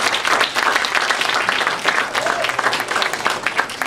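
Applause from an audience at an evening community anniversary event, dense and continuous, with many hands clapping at steady loudness throughout and no clear pauses.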